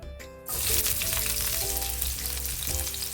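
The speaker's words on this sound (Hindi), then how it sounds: "प्याज को पहले हम हल्का फ्राई करते हैं" Onions dropped into hot oil for Maharashtra-style Malvani prawn masala burst into a loud, continuous sizzle after a brief quiet start, holding steady at close range.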